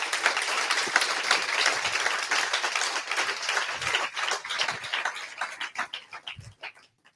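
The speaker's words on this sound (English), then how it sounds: "big round of applause for Tyler" An audience at a web performance meetup in London gives a sustained round of applause for the speaker, dense clapping that thins out and fades into scattered claps toward the end.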